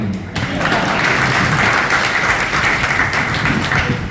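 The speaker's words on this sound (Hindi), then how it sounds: "इस पर ताली थोड़ी धीमी आई है।" A large audience at a religious discourse gathering in Pune breaks into sustained applause, a dense, loud wash of clapping that holds steady from start to finish.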